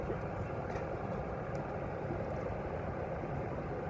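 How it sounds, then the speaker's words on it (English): Twin engines of a sailing catamaran idling as they are pushed forward, a steady low rumble that holds at an even, moderate level throughout without talking. "So now he said I need to move forward both engines."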